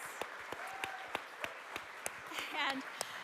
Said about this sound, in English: another round of applause for this incredible film.